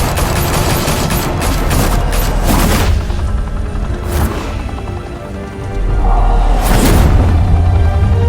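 Dense volleys of gunfire and booming blasts in a Batman Telltale video game, loud and sustained, with rapid bursts crackling over heavy low rumble and a brief lull midway before the barrage resumes.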